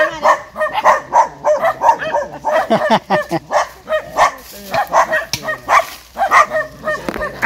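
Several dogs in a forest clearing bark loudly and repeatedly close by, a rapid, overlapping run of barks with brief yips, while someone speaks now and then.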